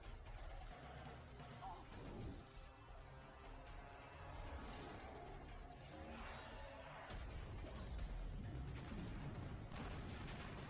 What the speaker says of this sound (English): damn, such a freaking huge explosion too, man.